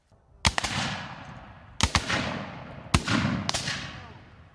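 Civil War reenactors fire muskets by file at Stones River National Battlefield, with loud, sharp reports coming in close pairs, each followed by a long rolling echo, about four blasts with no talking.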